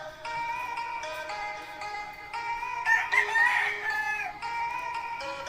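Fighting-cock roosters at a Philippine home crow nearby in long, loud, repeated calls that overlap, with soft clucking between them and no talking.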